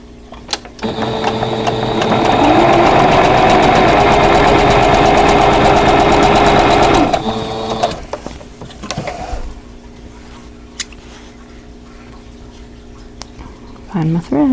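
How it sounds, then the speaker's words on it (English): A sewing machine runs steadily for about six seconds while stitching the mitered corner of a Christmas appliqué table runner. Quieter handling noises and brief speech follow once it stops. "sew this miter here"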